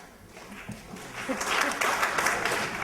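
Audience applause at a youth panel during Performing The World 2008, a patter of clapping that swells and grows denser partway through and then holds steady, heard alone without speech.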